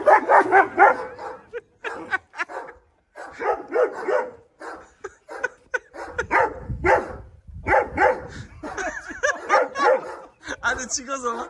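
Dogs unleashed on a person, barking and yipping in several loud bursts interleaved with excited talking voices, with some whimpering among the barks.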